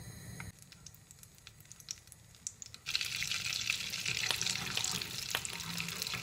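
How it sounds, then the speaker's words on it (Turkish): Butter melting in a heated pan for Turkish chicken soup, quiet at first and then a steady, close hiss of sizzling that continues to the end. "Çorbamızın sonumunda kullanacak olduğumuz yağımızı ısınan tavamıza alıyoruz."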